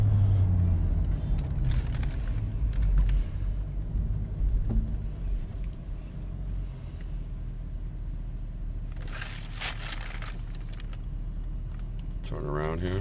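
A 2003 Mercedes SL55 AMG's supercharged engine drones steadily from inside the cabin while driving through the gears, a loud low rumble that eases slightly midway, with a few brief rustles and clicks near the end.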